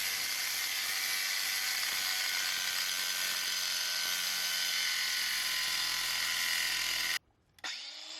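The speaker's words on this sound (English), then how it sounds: "I figured I'd just cut the stud and bolt in half and see how far that gets me." A power cutting tool slices through a car wheel stud and bolt, a loud continuous high-pitched grinding whine that stops abruptly near the end, then a brief restart.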